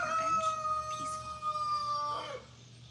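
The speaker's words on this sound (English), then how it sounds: "The roosters carrying on" Roosters crow repeatedly in a backyard chicken coop, their calls faint and somewhat distant, set against a quiet outdoor background with a few soft clucks.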